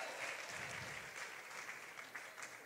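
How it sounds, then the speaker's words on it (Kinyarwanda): A church congregation claps loudly for God, sustained, dense applause from many hands filling the room, with faint crowd murmur underneath. "Reka dukomere Imana amashyi menshi cyane."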